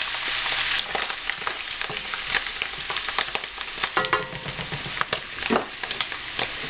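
Mushrooms for beef stroganoff cooking in a pan give off a continuous close sizzle with frequent uneven clicks and scrapes of stirring, moderately loud and without speech.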